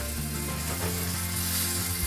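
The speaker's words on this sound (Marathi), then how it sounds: "आता जसा हा वरून फ्राय झालाय तसा खालून फ्राय झाल्यानंतर आपला बांगडा फ्राय तयार आहे" Mackerel (bangda) fish sizzling in a pan over lowered gas, a steady, close, dense frying hiss with faint low hum beneath, no voices.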